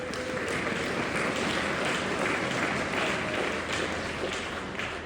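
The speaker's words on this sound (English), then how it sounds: "Give yourselves a round of applause." A concert hall audience at a winter choral and band concert gives a dense, sustained round of applause, steady and full throughout with no voices over it.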